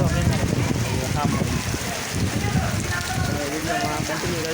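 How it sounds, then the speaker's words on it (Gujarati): Rain falls steadily beside a full lake at a Hanuman temple, a constant pattering hiss close by, with a person talking over it. "વરસાદ બહુ છે અત્યારે."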